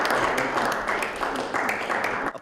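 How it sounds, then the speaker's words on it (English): Applause after a governor signs property tax bills: a dense, steady patter of many hands clapping close by, filling the short stretch without pause. "Applause and handshakes after Governor Mike DeWine put pen to paper, signing 5 property tax reform bills into law"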